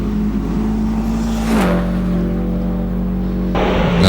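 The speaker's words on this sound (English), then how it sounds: "WRX of Jordan Rolack, making its way around the hairpin now." A Subaru WRX STI hillclimb car works around a hairpin, its engine holding a steady tone, dropping as it shifts, then picking up again, close and loud with no talk.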